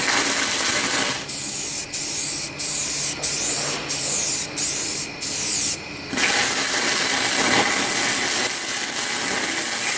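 Primer sprayed onto a fiberglass subwoofer box: a loud, steady aerosol hiss broken into a run of short bursts with clicking nozzle pauses, then one long continuous spray.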